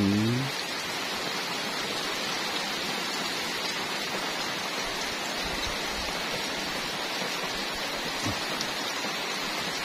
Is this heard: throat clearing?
no